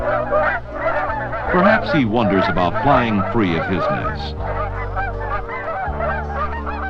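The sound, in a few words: geese honking while flying north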